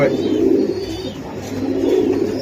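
A white grizzle racing pigeon cooing at a pigeon sale, low, throaty coos repeating steadily up close amid faint background voices.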